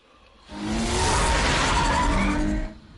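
Lamborghini car in Batman: The Telltale Series game, a loud whooshing drive-by with tire skid lasting about two seconds, rising sharply and cutting off, no talk.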